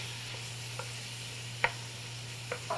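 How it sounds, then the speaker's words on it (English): Ground turkey browns in a pan with a faint, soft sizzle under a low hum, broken by a few quick taps. "I want to brown the turkey off a little bit before I add any other ingredients"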